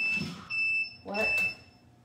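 A heat press beeps while a vinyl cut is being weeded. Two near, high electronic tones come about half a second apart, with low hum and a little background noise between them.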